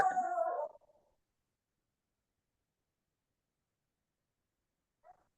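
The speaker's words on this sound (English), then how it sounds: "I had a dog making some noise in my background over here." A dog makes a brief, muffled noise in the background of a video call, a short burst at the start followed by silence and a faint sound near the end.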